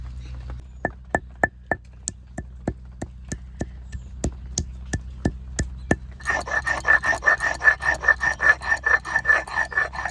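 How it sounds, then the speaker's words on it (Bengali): Garam masala spices are ground by hand on a stone for a mutton dish, first as slow evenly spaced sharp taps, then as a faster rhythmic scraping and pounding that grows louder, close and without talk. "আজকে গরম মশলাও বেটে দেবো"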